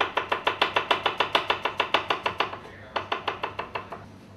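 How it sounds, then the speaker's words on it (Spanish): A knife chops garlic on a board in a quick, even rhythm of about twenty crisp strikes. A brief pause comes near the end, then a few more strikes follow, close and clear with no talking. "vamos a picar un poco de ajo mirando la cámara"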